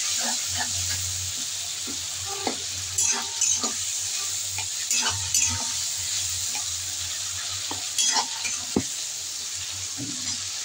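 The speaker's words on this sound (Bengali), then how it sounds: "এই মশলাটাকে আমি সাঁতলাচ্ছি।" Spice mix with sugar sautéing and being stirred in a pan, a steady soft sizzle broken by scattered clinks and scrapes of the spoon against the pan, close and fairly quiet.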